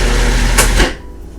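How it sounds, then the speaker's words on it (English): A food processor blends pumpkin cheesecake pudding in a loud motor whir that cuts off abruptly partway through, leaving a faint low rumble. "Because it blends really fast in the food processor."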